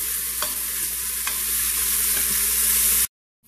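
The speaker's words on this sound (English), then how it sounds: "So I've been letting the onions kind of stir fry for about a minute or two" Onions stir-fry in a pot for coconut rice and red beans, a steady close sizzle with a few soft scraping stirs before it cuts off abruptly.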